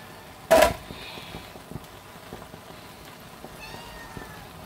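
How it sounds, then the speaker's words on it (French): A pet cat named Choco lets out one short, loud meow at close range, followed by quiet room noise with a faint patter like light rain. "Il y a mon chat."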